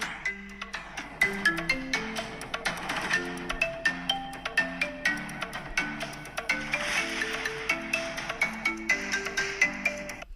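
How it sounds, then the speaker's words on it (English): A phone ringtone plays a bright melodic electronic tune with a steady rhythmic beat, loud and close, running continuously without speech. "You want to hear my phone's ringtone, Chris?"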